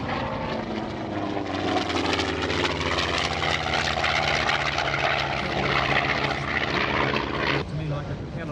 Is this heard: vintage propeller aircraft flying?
yes